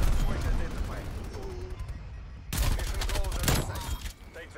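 Shotgun fire on the Nuketown map in a Call of Duty match: a rapid cluster of sharp, loud shots in the second half, after a stretch of game noise and faint talk.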